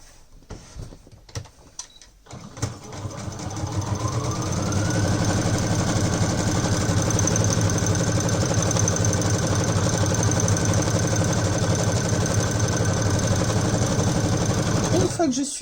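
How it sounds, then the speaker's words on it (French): A sewing machine stitching a U-shaped seam around a fabric tote bag, a steady mechanical whir that builds after a few faint clicks and holds evenly, stopping right at the end. "je vais coudre partout autour, sauf la partie supérieure. Donc je vais faire une couture en U."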